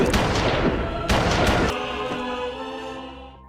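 Several sharp, loud gunshots ring out close together, followed by a long echoing decay that fades away.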